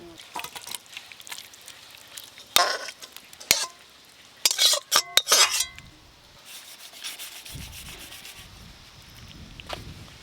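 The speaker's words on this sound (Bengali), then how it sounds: "চিলি চিকেন একদম তৈরি হয়ে গেল, এবার ঢেলে নেব।" Chilli chicken is scraped out of a pan with a spatula in close, sharp bursts of scraping and clinking against dishes, followed by a quieter stretch of low sizzling.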